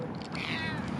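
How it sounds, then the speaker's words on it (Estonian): A cat gives one drawn-out meow, close and fairly loud, rising and falling in pitch over steady background noise. "Nii ilus kass."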